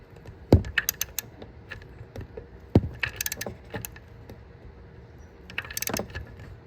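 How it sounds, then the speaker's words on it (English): A torque wrench works on a fifth-generation Toyota 4Runner during a PCV valve replacement, with sharp metallic clicks and ratcheting taps in uneven bursts, close and clear, with no talking. "Should hear a click on the torque wrench once we reach that."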